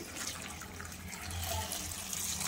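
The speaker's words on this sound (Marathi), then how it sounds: "स्वच्छ पाणी धुवून काढायचं." Tap water runs steadily over chopped pumpkin being washed in a sink, a continuous close splashing hiss with a low rumble underneath and no talking.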